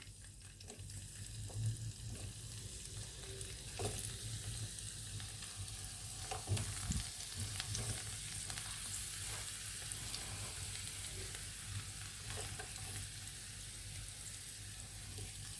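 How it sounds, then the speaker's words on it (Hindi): Eggplant slices fry in hot oil in a frying pan, giving a continuous soft crackling sizzle with scattered pops and small clatters, steady and fairly quiet throughout with no voices. "इसको मैं दोनों तरफ से फ्राई करके और मैं फिर इसको निकाल लूँगी।"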